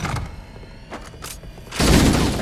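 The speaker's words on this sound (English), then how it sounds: "I was trying to get the shot off before I strafed in behind a wall" Gunfire in Halo: Combat Evolved, a few muffled shots followed by a louder blast near the end, heavy and close with no talking.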